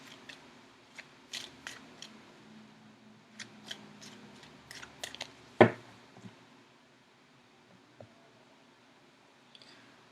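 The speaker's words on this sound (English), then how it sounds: "So I'm going to shuffle for a few more seconds." Tarot cards shuffled by hand in a quiet room, a string of crisp papery riffles and taps with one sharper snap midway, then near silence.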